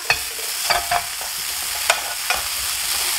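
Abalone, ginkgo nuts and green pepper sauté in melting butter in a pan, making a bright, steady sizzle broken by a few quick utensil scrapes and clacks, close and loud with no voices.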